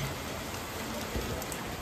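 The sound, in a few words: heavy rain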